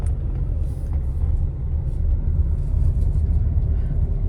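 A car engine runs steadily while driving as the driver shifts into third gear, a constant low rumble close inside the cabin with no clear gear-change event and no speech.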